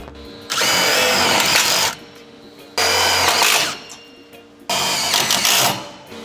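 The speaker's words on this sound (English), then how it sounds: "you're just gonna run 2 screws through it" A power tool drives screws into a pinch weld cutout bracket on a Mercedes Sprinter van during side step installation, three loud buzzing whirring bursts of about one to two seconds each with short pauses between, close up.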